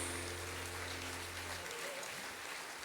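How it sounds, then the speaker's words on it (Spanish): Sustained applause from a church congregation honoring Jesus during worship, a dense, steady wash of clapping that stays fairly soft and even throughout, with a low hum beneath it early on. "ese aplauso fuerte a Él"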